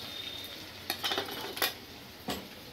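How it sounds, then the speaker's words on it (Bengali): A spoon stirring spice paste of chilli, coriander and cumin in a pan, a few soft scraping clinks against the metal over a faint sizzle, close and quiet. "মশলাটাকে নাড়াচাড়া করে নেব।"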